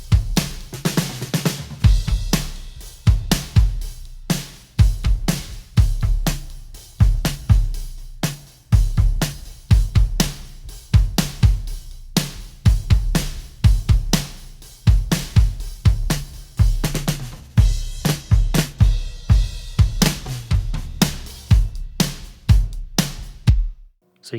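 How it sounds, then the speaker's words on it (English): Soloed kick and snare drums reinforced with Trigger 2 samples pound out a steady, punchy rock pattern, close and full, with no voices. "So I'll solo the kick and the snare together, and then I'll just mute and unmute those samples so you can hear the before and after."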